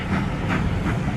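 A train passes on the West Somerset heritage railway at Blue Anchor, a steady loud rumble with faint rhythmic clatter of wheels, alone without voices.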